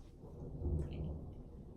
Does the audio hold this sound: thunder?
yes